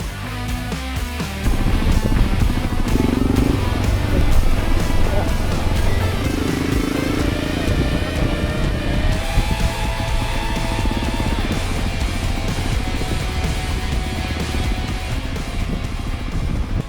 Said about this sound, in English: We are riding motorcycles across Italy and it is incredible.